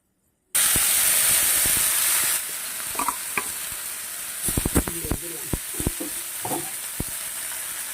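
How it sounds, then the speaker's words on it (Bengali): Greens dropped into hot oil where dried red chillies and fenugreek seeds have fried dark, a sudden loud burst of sizzle and steam that settles into frying with repeated sharp stirring clacks, close up. "ভাজা হয়ে গেছে, কালো হয়ে গেছে মরিচ। এবারে শাকগুলা দিয়ে দেব।"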